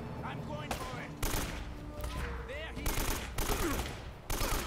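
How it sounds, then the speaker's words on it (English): Gunfire in the video game Uncharted: Drake's Fortune, with loud broadband bursts of shots repeating in irregular volleys over a busy game soundtrack. "Can I shoot both of you at the same time?"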